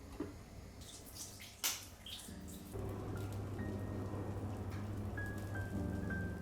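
Water running in a shower, starting with a few faint drips and splashes, then settling into a steady, soft hiss of spray that continues to the end, quiet and close with no voices.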